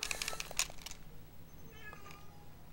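A cat meows repeatedly in short, close calls during the first second, then continues more faintly over low background hum.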